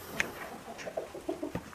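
A tall Brahma breed chicken clucks softly, with a quick series of short, low clucks close by.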